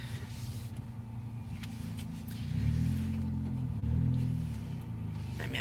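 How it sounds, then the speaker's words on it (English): A car engine idles low and steady while the car is parked, rising twice into a louder rumble as it revs or creeps forward, with faint background clatter. "I'm parking my car."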